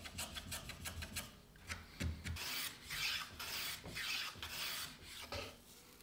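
A block plane chamfering the sharp edges of a scrap-wood workpiece, with repeated short rasping strokes close by, quick at first and then longer shaving passes.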